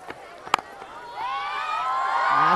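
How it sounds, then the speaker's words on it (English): Crowd of a couple of hundred students at a women's T20 cricket match in a Karachi club ground, rising into sustained cheering and high-pitched shouts and whoops after a few sharp claps, growing louder toward the end. "There's so much noise in the crowd. Just a couple of 100 students here"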